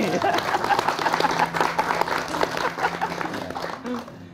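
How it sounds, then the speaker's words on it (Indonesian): A studio audience at a religious talk-show recording applauds, a run of close, crisp hand claps that gradually thins out, with voices talking over it. "Tepuk tangan untuk adikku ini."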